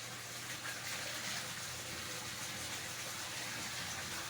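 Tap water runs steadily in a home, a dense, even broadband hiss that holds without a break for several seconds, close by and moderately loud, with no voices over it.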